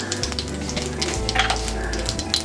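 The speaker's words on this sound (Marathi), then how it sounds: "तेल छान गरम व्हायला देते दिलं आहे। तर आता मी थोडंसं जिरं घालून घेते" Cumin seeds dropped into hot oil for a cauliflower-potato dry sabzi give a steady close frying sizzle with small crackles, filling the short stretch with no talk.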